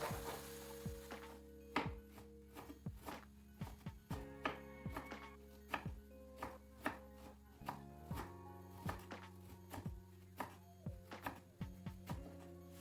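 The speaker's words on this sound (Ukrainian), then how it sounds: "Поки обсмажується цибулька, м'ясо і морква, ми нашаткуємо капусту" Cabbage shredded with a knife for a skillet pie filling, crisp repeated chopping strokes in a fairly regular rhythm against a board, close but quiet, over a steady low background hum.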